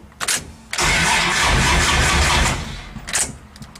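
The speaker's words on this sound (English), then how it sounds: "So we can spin the engine over with the key from the inside." A turbocharged V6 engine in a Dodge Dakota is cranked with the key, a brief starter whir before a sustained grinding churn of turning over, then it winds down with clicks.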